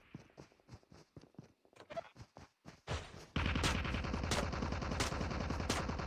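Gunfire in the battle royale game COD Mobile: scattered single shots and footsteps at first, then a dense, loud, continuous burst of automatic fire that fills the second half.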